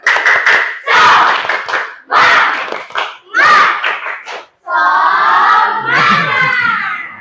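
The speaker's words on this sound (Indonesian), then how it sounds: "Coba tepuk semangat." A classroom of students performs a rhythmic spirit-clap chant, bursts of clapping and shouted group chanting in short phrases, close and loud, followed by a longer stretch of voices.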